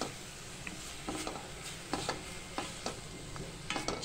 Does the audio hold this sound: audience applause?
no